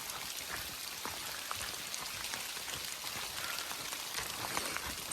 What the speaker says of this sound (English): we've got hail